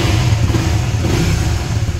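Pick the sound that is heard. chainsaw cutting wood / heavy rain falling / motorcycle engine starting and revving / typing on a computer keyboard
motorcycle engine starting and revving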